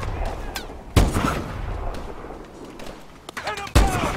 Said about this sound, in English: this is the laser sniper rifle